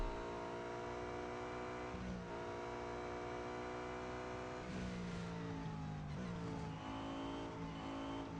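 A race car engine from the Real Racing 3 driving game whines steadily with rising and falling pitch as it shifts and accelerates, joined by faint tire squeal, loud and continuous without a break.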